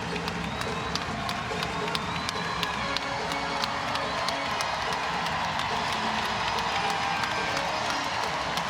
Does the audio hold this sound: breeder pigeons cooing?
no